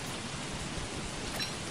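Steady rainfall in Don't Starve Shipwrecked, a dense, even wash of hissing droplets at low level with a slight swell near the end, playing alone without voices.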